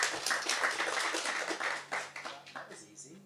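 Scattered hand clapping from a small audience at a sustainable code panel, individual claps clearly separated and tapering off as the applause fades toward the end, with faint talk in the room.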